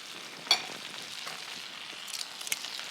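Steak frying in a pan gives a quiet, even sizzle, broken by a sharp tap of a utensil early on and a few light crackles near the end.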